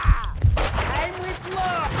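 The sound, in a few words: gunfire in the video game Max Payne 2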